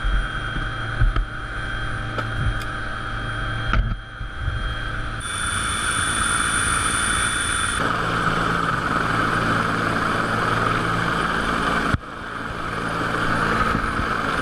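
Steady rescue helicopter rotor and engine drone, loud and continuous, with wind buffeting the microphone; no talking.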